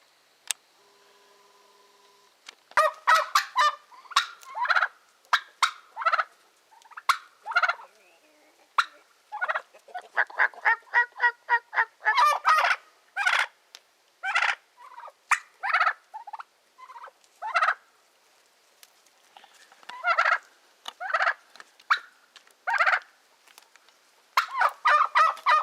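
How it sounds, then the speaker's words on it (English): Wild turkeys gobble repeatedly in woods near a raised pallet tree cabin, the rattling calls coming in quick bursts at close to moderate range, loud and clear with no talking over them. "Come on, give me a gobble."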